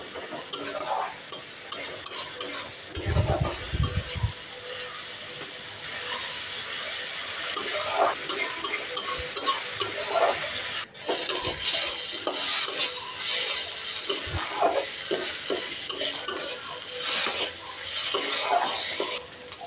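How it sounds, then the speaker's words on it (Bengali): A grated spice paste of onion, ginger, garlic and green chilli is stir-fried on medium heat for egg curry: repeated scraping strokes of the spoon over a low, steady sizzle, close and fairly quiet. "গ্রেটেড মশলা অ্যাড করে দিয়ে মিডিয়াম হিটে কষিয়ে নিচ্ছি"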